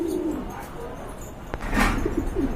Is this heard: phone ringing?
no